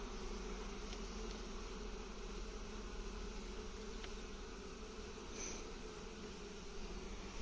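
Honeybees buzz in a dense, steady drone at a busy hive as young bees emerge and foragers return with pollen, close and continuous throughout, with no talking.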